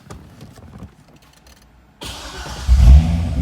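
A 2011 Corvette Grand Sport convertible starts up after a few quiet interior clicks, the engine catching abruptly and settling into a loud, deep exhaust rumble close by.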